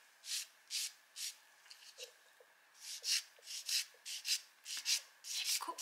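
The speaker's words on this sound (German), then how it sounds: "Wir müssen ein bisschen buffern und feilen." Fingernails are buffed and filed with a nail file, giving a steady series of about a dozen rhythmic scratchy rasping strokes, close and fairly loud, with no talking.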